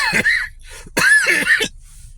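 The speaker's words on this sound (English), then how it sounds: "I haven't coughed all day." Two harsh, close coughs in quick succession, a short one followed by a longer, raspier burst, then quiet.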